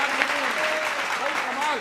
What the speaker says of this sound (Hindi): तालियां जरा जोर से बजाइए